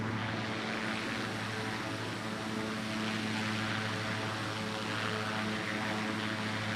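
Citation business jet in Flight Simulator 2024 rolling for takeoff, a steady loud engine drone with strong low tonal hum and broadband rush, continuous throughout with no voices.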